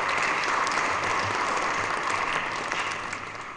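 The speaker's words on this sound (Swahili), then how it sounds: "Tumpigie makofi Bwana Lord." An audience at the Tanzania–UK business forum claps in sustained, dense applause that stays steady throughout, then tapers slightly at the end.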